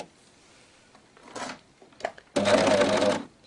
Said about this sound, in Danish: når jeg starter på overlockeren, så har jeg simpelthen lagt mine ærmekanter fuldstændig over hinanden